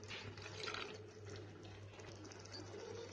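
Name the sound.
a glass of water poured into ridge gourd curry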